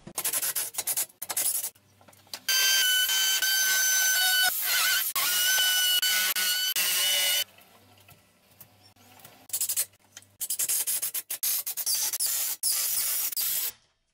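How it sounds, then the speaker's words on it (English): Power drill noise comes in loud bursts while drilling holes and driving screws into a wall, long whirring runs with short pauses between, close by, along with scraping and handling clatter. "we'll get this off the wall and drill all the holes"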